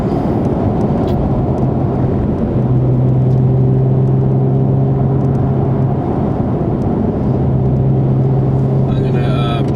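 Nissan 350Z with an Invidia Gemini cat-back exhaust and Berk Tech high-flow cats, heard from inside the cabin: a loud, steady low engine drone and road rumble with sustained exhaust tones, plus occasional faint rattles.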